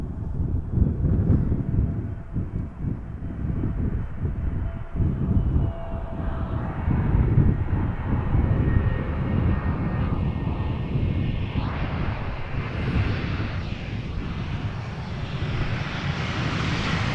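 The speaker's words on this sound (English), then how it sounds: "And the A320 Neo having landed." Airbus A320neo landing at Amsterdam Schiphol in gusty crosswind, a loud, close engine roar that swells and holds while its pitch slowly rises, with buffeting wind over the microphone.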